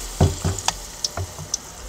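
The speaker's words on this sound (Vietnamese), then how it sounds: "Thả vô mình chiên." Food dropped into hot oil in a pan, a few sharp crackling bursts and sizzles up close, then brief spits fading out.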